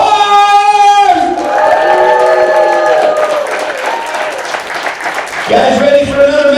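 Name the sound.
crowd applause and cheering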